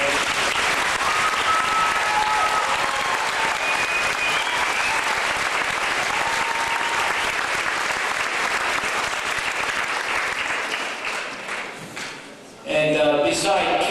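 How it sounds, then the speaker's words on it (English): A crowd at a wish-granting event in Richmond Hill gives a long, loud round of applause that fades briefly near the end before a voice comes in. "Can you give a round of applause?"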